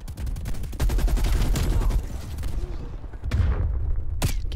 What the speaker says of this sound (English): Hostile sentry turret active.